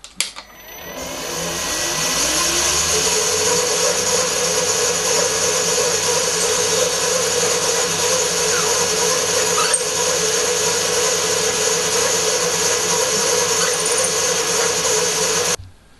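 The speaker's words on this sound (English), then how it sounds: "I can drill the pilot hole for the slot." A power drill whirs steadily at close range for about fifteen seconds, drilling a pilot hole in plastic, a continuous high motor whine with a brief start and stop.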